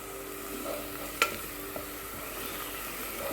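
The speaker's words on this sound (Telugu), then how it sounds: "బ్రౌనిష్గా అయిపోవాలన్నమాట తిప్పుకుంటూ వేయించండి ఎర్రగా" Chole masala frying in a pan with a steady low sizzle, punctuated by a sharp spoon scrape and a few soft stirring knocks, close and fairly quiet.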